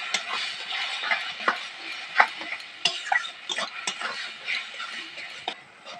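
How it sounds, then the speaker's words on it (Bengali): A spatula stirs a spiced mashed roasted eggplant mixture in a pan, scraping and tapping in irregular strokes over a light sizzle, close and moderately loud with no talking. "লাল লঙ্কার গুঁড়ো দিয়ে দেবো, দিয়ে নাড়ি চাড়িয়ে নেবো।"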